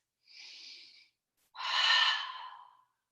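Two deep breaths during a yoga session: a softer inhale, a short pause, then a longer, fuller exhale that fades out. Close and alone, with no talking.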